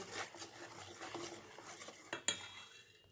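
Patisapta batter is mixed with milk in a bowl, giving a faint, steady run of wet stirring and light scraping, ending in one sharper clink before fading.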